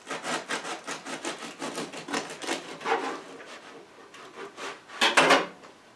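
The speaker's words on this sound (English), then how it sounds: "Now you can hear this crispy crust." A knife saws through the crisp, crackly crust of a freshly baked, cooled no-knead sourdough loaf, giving a steady run of close, dry rasping strokes that ends in a louder crunchy burst.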